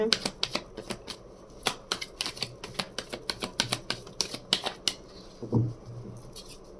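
Tarot cards being shuffled by hand, a quick run of crisp riffling and tapping bursts at a steady rhythm, close and fairly loud, with a brief low knock near the end.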